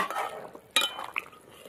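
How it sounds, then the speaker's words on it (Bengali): Lid lifted off a pot of fish curry with potatoes, giving one sharp metallic clink and scrape followed by a faint clatter, close and quiet, with no voices. "ঢাকনাটা খুলবো এবার।"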